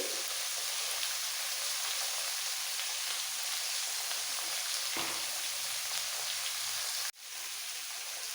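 A small amount of chopped raw onion sizzles in hot oil in a pan, a loud, continuous crackling hiss with one sharp clatter near the end, as for an Indian mixed vegetable sabji.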